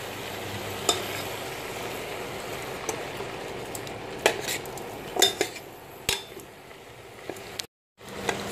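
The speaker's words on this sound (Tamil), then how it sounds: "இப்போ இந்த சாம்பார் தூளையும் நல்லா கிளறி விடுங்க" Sambar powder being stirred in a cooking pot, a soft sizzle underneath with several sharp scraping clinks of a spoon against metal, close and without talk, then a brief silence near the end.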